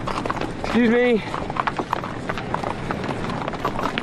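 Horse hooves clip-clop at an even walking pace, while someone briefly speaks over them and a short tonal sound rises early on.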